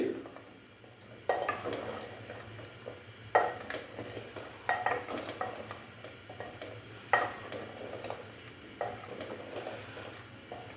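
Mutton with cumin and coriander powder being stirred in a cooking pot, a ladle scraping and clanking against the metal in irregular bursts over a faint steady sizzle, close by with no talking.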